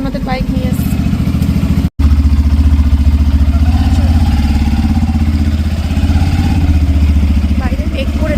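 A motorcycle engine runs steadily up close, a loud continuous low throb that cuts out briefly near the start before resuming, with talk heard over it.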